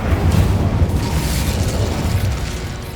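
Incendio fire spell blasting in Hogwarts Legacy, a dense rumbling burst of flame that roars steadily and loudly for about three seconds with no talk over it.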